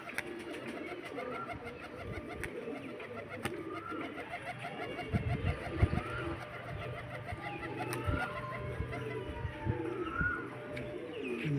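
Pigeons coo softly and repeatedly at a pigeon sale in Beldanga, over a busy background of other birds chirping and faint low rumbling, with no one speaking.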